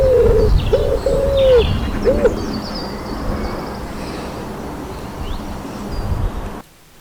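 Pigeons in a nuptial mood cooing on Bodmin Beacon in Cornwall: a few loud, close, hollow coos in the first two seconds, then a steady outdoor hiss with faint bird calls that cuts off at the end.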